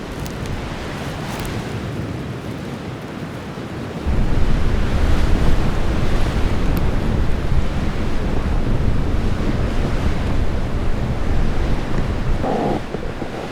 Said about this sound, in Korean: 바짝 엎드려 눈보라를 피하지만